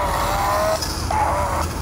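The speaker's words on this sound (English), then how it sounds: "So if you're going forward, you'll hear tires screeching" A smartphone app paired with a JJRC Q45 RC car plays a tire-screeching sound effect, a continuous squeal over an engine-like roar, loud and close, with a short break midway before the squeal resumes.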